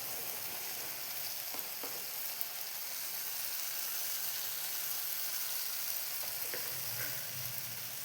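Spices with salt and turmeric sizzle in oil for a small fish curry, a steady faint frying hiss with a few soft stirring touches, close but quiet and without talk.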